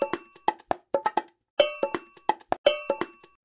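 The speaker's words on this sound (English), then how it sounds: "The bongos and cowbell." Bright cowbell clanks mixed with quick bongo hits in a lively, syncopated rhythm, playing alone and crisp with short ringing decays.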